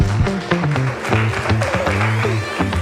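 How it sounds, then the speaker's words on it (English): Guests at a graduation dinner applaud while loud music with a pulsing beat plays over the clapping, the hand claps scattered and partly buried beneath the music. "Just clap for me."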